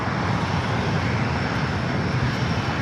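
Air Canada Airbus A220-300 in retro livery taxiing toward Terminal 6 at LAX, its engines giving a steady, continuous broadband roar that holds at an even loudness throughout, fairly close.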